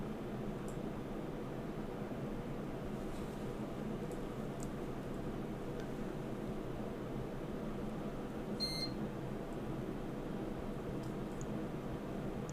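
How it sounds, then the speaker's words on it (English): A single short electronic computer startup beep sounds once partway through, over a steady background hum of fans and machinery. "hopefully we should hear a beep soon"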